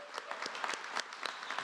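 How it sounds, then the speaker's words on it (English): Applause from an audience at a university convocation and awards ceremony honouring Dr. Hayes, fairly faint and distant with distinct individual claps in an irregular patter. "One more round of applause for Dr. Hayes."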